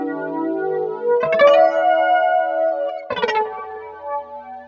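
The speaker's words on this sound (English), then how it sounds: "So I've got some delay, a chorus, and a bit of flanger, and that sounds like this." A budget electric guitar under £100 plays sustained chords through delay, chorus and flanger effects, two strummed hits ringing out with swirling, echoing tails that fade in between.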